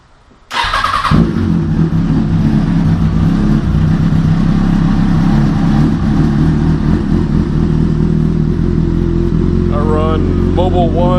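A 2005 Kawasaki Ninja 636 fitted with a Two Brothers exhaust starts cold with a sudden loud catch, then settles into a steady, close, raspy idle that runs on to the end, with brief speech near the close.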